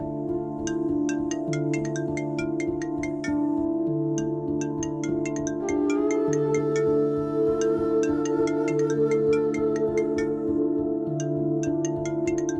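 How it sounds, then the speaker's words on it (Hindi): An electronic ringtone melody plays steadily, bright repeating plinks over a sustained harmonic backing, loud and close, with no voices. "अचानक प्रिया के फोन पर कॉल आया।"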